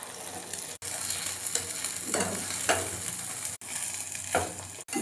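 An egg omelette seasoned with salt and turmeric sizzles steadily in a frying pan while being turned over, with a few soft scraping bursts over the continuous close frying hiss and no talking.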